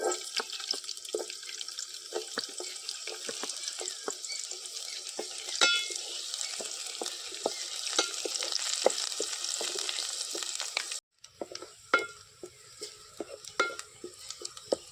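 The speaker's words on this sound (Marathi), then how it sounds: "तेलातल्या फोडणीत टाकतं कांदो" Chopped onion sizzles and crackles steadily in hot oil tempering over a wood-fired village stove, with close stirring clicks; the frying is loud through most of the stretch, then drops to quieter sputters near the end.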